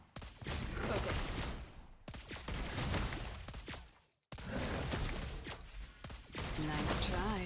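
Sniper gunfire from the hero Lesley in the mobile game Mobile Legends, shots cracking through dense, loud game music and battle effects, with character voice lines spoken over the action.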